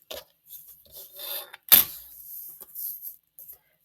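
Paper and fabric being trimmed along the line in foundation paper piecing, with faint scraping and rustling strokes and one sharp snip in the middle, close and quiet with no talking.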